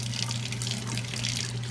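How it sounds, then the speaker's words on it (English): A tap runs steadily into a sink while an empty brush pen refill cartridge is rinsed, giving a continuous close hiss of flowing water with a low hum beneath it and no voices. "once the water's clear, it should be pretty good"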